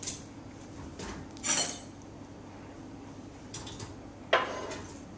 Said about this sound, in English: we're going to put our European twist into the saucepan, which is the sausage